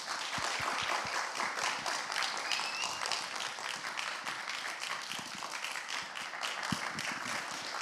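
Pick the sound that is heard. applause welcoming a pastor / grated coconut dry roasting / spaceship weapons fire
applause welcoming a pastor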